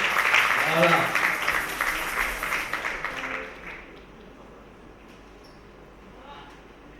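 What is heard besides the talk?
audience applause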